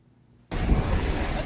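Wind and surf at a seashore in Pingtung start abruptly after a short near-silence, giving a loud, steady roaring wash of waves and wind buffeting the microphone.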